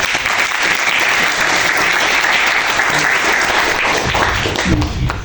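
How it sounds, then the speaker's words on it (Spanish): Audience applause for a professor at a dramaturgy workshop seminar, a steady, loud wash of clapping from a room of people, slightly thinning near the end as a voice starts to come through. "Un aplauso para el profesor."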